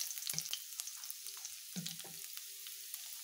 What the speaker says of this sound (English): I'm going to add this garlic. We're gonna stir fry